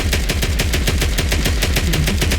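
Rapid automatic bursts from a suppressed USAS-12 combat shotgun in Fallout 4, a fast steady string of loud muffled shots with booming low thumps, continuous for the whole stretch with no talking.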